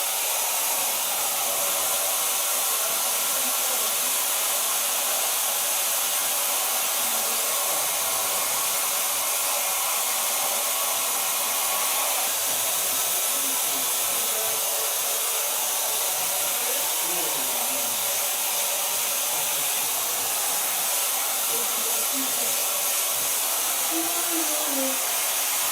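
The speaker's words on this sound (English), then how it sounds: "this blow dry is with the diffuser. It clicks on and you can really curl with it." A hair dryer fitted with a diffuser runs steadily and loudly for the whole stretch, blowing a broad constant rush of air while it dries curly hair, with no speech over it.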